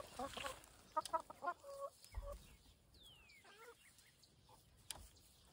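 Chickens cluck in short bursts near the start, then scattered softer clucks and a few higher calls follow against a quiet outdoor background.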